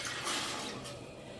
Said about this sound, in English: So I need to add the rest of my vinegar